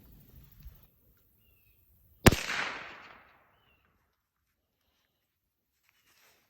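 Single sharp crack of an 8.6 Blackout hog hunting rifle fired outdoors, loud and sudden, followed by a short fading echo, with quiet moments before and after.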